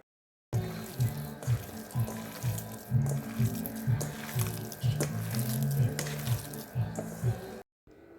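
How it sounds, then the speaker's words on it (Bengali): Chicken momo filling is mixed by hand with vinegar and soy sauce, making rhythmic wet squelching and squishing sounds, close and repeated steadily for about seven seconds. "মাখানোর আওয়াজ এরকমই হয়"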